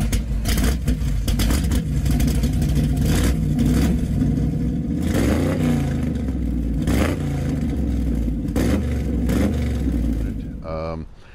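A stroker small-block Chevrolet car engine runs loud and rough throughout, with a deep lumpy idle and occasional revs, mechanical clatter and a voice talking over it.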